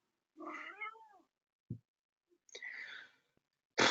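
A house cat meows twice nearby, each a short wavering cry separated by quiet, followed by a brief soft breath and a sharp noise at the end.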